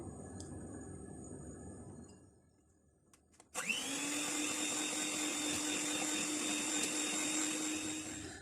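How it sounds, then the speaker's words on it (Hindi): An electric mixer beats butter in a large bowl for a cake. A lower mechanical rumble fades out, then the mixer starts abruptly and keeps up a loud, steady high whirring whine close by. "अब इसे यहाँ एक बड़े बाउल के अंदर जो मक्खन हमारे पास है, सबसे पहले ये मक्खन इसमें बीट कर लेते हैं।"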